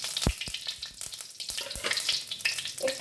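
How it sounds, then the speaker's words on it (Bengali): Bay leaf, dried red chilli and whole cumin crackle and spit in hot oil for a banana-flower dish, a bright close sizzle with frequent sharp pops and a few knocks of utensils, no talk. "তেজপাতা শুকনো লঙ্কার পর একটু গোটা জিরে দিয়ে দিচ্ছি আমি"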